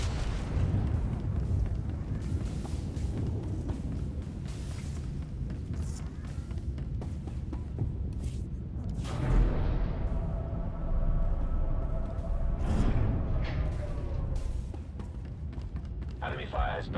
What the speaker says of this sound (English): Enemy fire has burned through our shields.